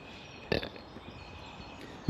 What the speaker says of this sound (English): Not the burp I just did.